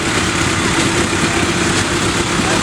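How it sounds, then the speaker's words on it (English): A small diesel tractor idles at a tractor show, a loud, steady, close chugging rumble that keeps an even rhythm throughout. "This is 74, a little diesel tractor as well."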